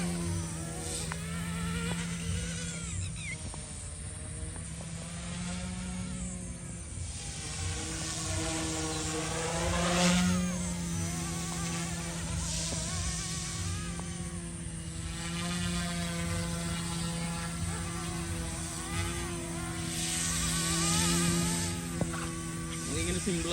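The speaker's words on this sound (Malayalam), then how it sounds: "അത് സിമ്പിളായിട്ട് ഇങ്ങനെ ഫ്ലൈ ചെയ്യാം ഹെലികോപ്റ്റർ." A Goosky S2 RC helicopter flies outdoors with a steady high electric whine and rotor buzz that holds throughout, while someone talks over it.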